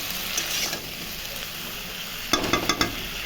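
Bori lentil dumplings and vegetables fry in a pan for a bori curry with a steady, even sizzle, then a quick burst of four sharp spatula taps and scrapes near the end, with no talking.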